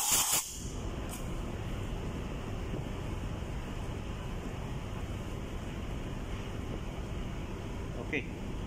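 Compressed air blows across the parts of a slide-type fuel valve from a ship's main engine to clean them. A sharp burst comes first, then a steady, faint hiss runs over a low background rumble.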